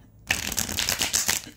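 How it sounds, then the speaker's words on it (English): A quick riffle of playing cards being shuffled, a dense papery flutter lasting about a second, close and fairly loud. "let me shuffle one good time."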